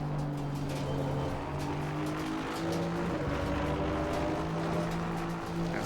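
An Aston Martin V8 GT3 race car at Spa in Assetto Corsa Competizione downshifts from third to second. The steady, droning engine shifts pitch in steps over a continuous roar.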